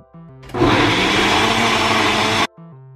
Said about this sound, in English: Gonna put in the blender right here.